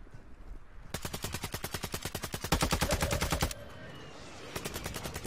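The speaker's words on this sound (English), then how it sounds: "Good shots, Noli. Good shots" Automatic gunfire in Warzone 2.0 comes in a loud, close stream of evenly spaced rapid shots for about two and a half seconds, pauses, then resumes with another quick burst.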